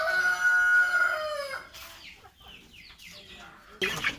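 Chickens around a small farm, including roughly 1.5-month-old incubator-hatched chicks: a clear rising crow-like call at the start, then a few short clucks and chirps, close and moderately loud.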